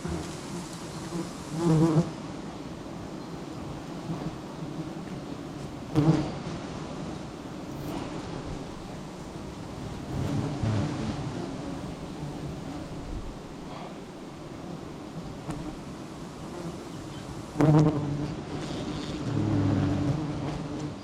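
A swarm of giant honey bees buzzes steadily around a low-hanging wild nest outdoors, a dense continuous drone with a few louder swells as bees pass close, and no speech.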